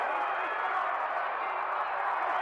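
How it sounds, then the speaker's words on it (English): A boxing arena crowd roars in a steady, distant wash of cheering during a Gene Fullmer versus Ray "Sugar" Robinson middleweight fight, an unbroken din with a faint voice mixed in. "The crowd loves it here."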